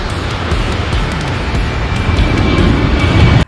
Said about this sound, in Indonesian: Wow, kita menemukan pesawat lagi teman-teman. Tapi kali ini pesawat domestik.